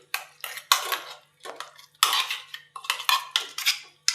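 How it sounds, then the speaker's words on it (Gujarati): Chikoo pulp being stirred into milk for kulfi: close, irregular clinks and scrapes of a spoon against a metal pot, in short bursts with brief pauses between. "થોડુંક નાખતા જાવું અને હલાવતા જાવું"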